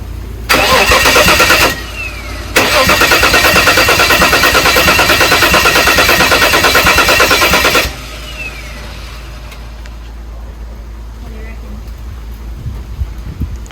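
A Holden VL Commodore engine under a rebuild cranks and fires for its first start, two loud bursts of cranking and running separated by a brief pause, then cutting out to a quiet background.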